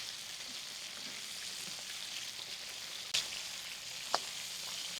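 Crabs frying in soybean oil in a pan, a steady close hiss and sizzle throughout with a couple of sharp pops and crackles.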